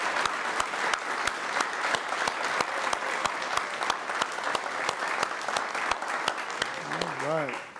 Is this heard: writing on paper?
no